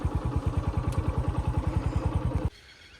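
A motorcycle engine runs close by with a steady, rapid low thumping and a faint clatter for about two and a half seconds, then cuts off abruptly into quiet background.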